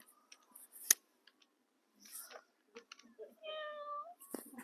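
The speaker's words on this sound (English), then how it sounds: "I'm going to turn on the cat. Fair warning, it moves and it makes noises." Robotic toy cat switched on, giving a few mechanical whirs and clicks from its moving parts followed by a drawn-out synthetic meow, close and fairly quiet in a room.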